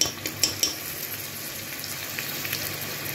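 Mutton frying in a pan as a spoonful of paste goes in, with a steady close sizzle and a few sharp metallic clinks of the spoon at the start, no voices.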